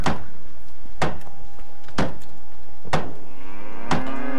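Cattle mooing in the medieval video game Life is Feudal, heard alongside a steady series of loud, evenly spaced knocks about a second apart, with no speech.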